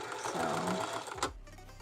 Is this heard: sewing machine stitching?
yes